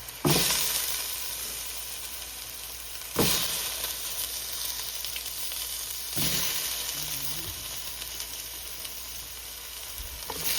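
Cherry tomatoes fry in a hot pan for a mung bean (monggo) dish, giving a steady, close sizzle with three brief louder bursts as they are stirred or moved.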